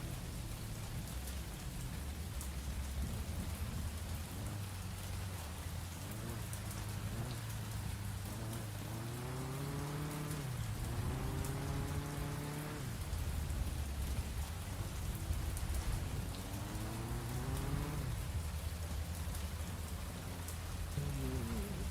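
Heavy, steady rain pours continuously in the game Mon Bazou, a dense hiss of drops with a low engine-like rumble and shifting tones underneath, no voices.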